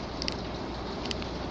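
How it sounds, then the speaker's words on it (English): Heavy storm rain falling outside, a dense constant hiss of drops heard steadily throughout, with a couple of faint brief higher clicks. "it's just raining like crazy outside"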